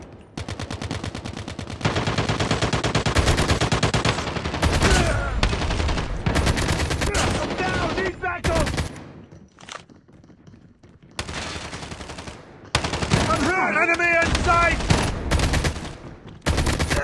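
Gunfire from Call of Duty Mobile on the FrontLine Killhouse map: dense bursts of automatic and single shots come in loud clusters with short quiet breaks, and game effects sound between the volleys.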